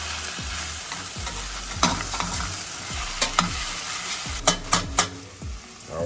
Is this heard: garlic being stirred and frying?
yes